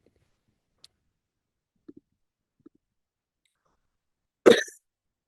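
Near silence with a few faint clicks, then a single sharp cough near the end.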